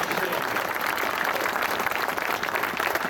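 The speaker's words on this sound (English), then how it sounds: "give yourself a round of applause for showing up" Audience applause at the opening ceremony of a veterans memorial motorcycle ride, a broad continuous roar of outdoor clapping and crowd noise, steady and fairly loud, with faint voices mixed in.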